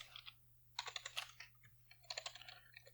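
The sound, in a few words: typing code on a computer keyboard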